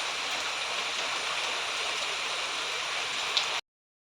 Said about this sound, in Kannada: ಅಷ್ಟು ಜೋರು ಮಳೆ ಉಂಟು.